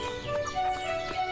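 Horse hooves clip-clopping in the farming game Everdream Valley as the horse is led into the stable, a few light steps with faint game music underneath.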